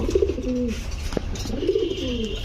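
A female pigeon held in the hand coos twice in close succession, each a soft, rolling, near call, with a brief click between them and a faint background hum.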